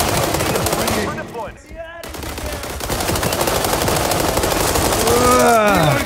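Gunfire in a war video game set in World War 3: dense, loud bursts of automatic fire rattle almost without pause, dropping out briefly near the second mark, while a voice calls out over the shooting.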